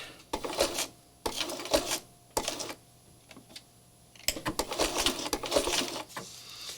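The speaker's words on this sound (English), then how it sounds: "I'm going to stitch a couple stitches and back stitch" A sewing machine runs in short bursts of rapid mechanical stitching, then stops and starts again for back stitching, with a longer run near the end and quiet pauses between bursts.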